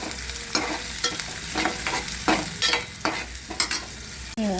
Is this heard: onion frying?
yes